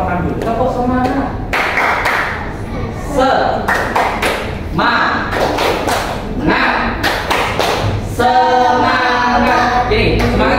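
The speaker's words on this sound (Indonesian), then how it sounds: "saya contohkan dulu. Tepuk semangat." A group performs a rhythmic 'tepuk semangat' clapping routine in a school counseling class, sharp clap bursts in a repeating pattern with a voice speaking throughout.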